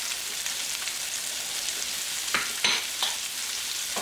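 Onions cook in butter in a pan, giving a steady close sizzle with a few brief clicks of stirring or a utensil touching the pan, and no speech.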